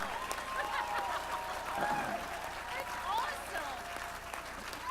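Audience applause at a live event, a steady wash of clapping held at moderate volume with faint voices mixed in.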